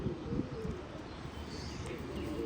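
Pigeons coo in soft, low, repeated throaty calls, close by and fairly loud, with a faint higher chirp or two mixed in and no talking.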